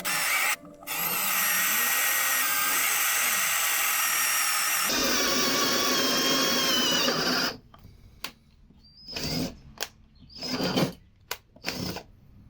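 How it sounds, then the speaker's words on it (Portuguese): A power drill with a small bit bores through metal while making a homemade bench vise. A loud, steady whine runs for about seven seconds and shifts pitch midway, then gives way to a few short, quieter bursts. "vamos furar com a menorzinha antes, depois a gente passa a maior só pra alargar"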